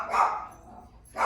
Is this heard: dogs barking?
yes